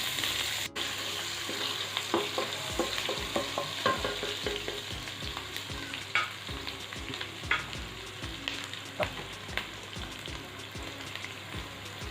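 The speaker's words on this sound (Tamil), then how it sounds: "இப்போ வந்து கடுகு பொரியுது." Mustard seeds splutter and pop in hot oil for an oil brinjal curry, with steady sizzling and a string of sharp crackles spread across the whole stretch, up close and with no voices.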